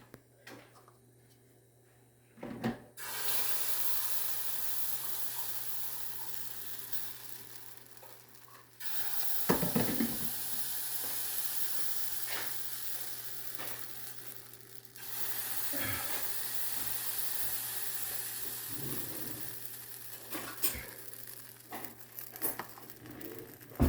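Eggs sizzle in a hot pan for breakfast, a steady close frying hiss broken by brief scrapes and stirring clatter, with no talking.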